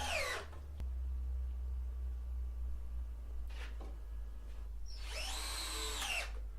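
A power drill drives deck screws into a 2x4 lumber frame for a potting bench, three separate whirring bursts rising in pitch, close and loud, with a steady low hum between them.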